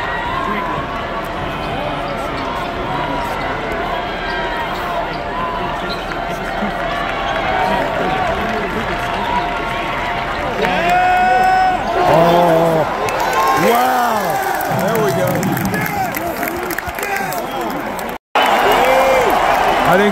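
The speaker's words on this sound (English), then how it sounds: "This Purdue crowd's back in it." Purdue basketball crowd roaring and cheering inside Nationwide Arena during a March Madness NCAA tournament game, a loud, dense wall of cheers swelling near the middle with sneaker squeaks and a bouncing ball, voices shouting throughout.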